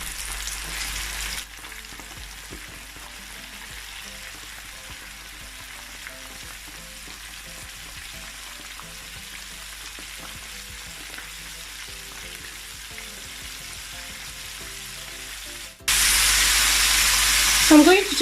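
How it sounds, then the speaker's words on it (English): Chicken wings deep fry in hot oil, a continuous soft sizzle and bubbling with small crackles, bracketed by loud bursts of hissing at the start and end, no talking. "Now I'm going to gently drop all the chicken wings into the hot oil."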